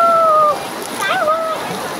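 Fast floodwater rushes past in a steady broadband roar with occasional splashes, close and loud, while someone talks over it throughout.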